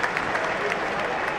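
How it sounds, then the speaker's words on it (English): The crowd at the Kia Oval applauds during the England v India fifth Test, a short, steady round of clapping from a large stadium audience. "there's a rousing round of applause for Mohammad Siraj for that 1 ball"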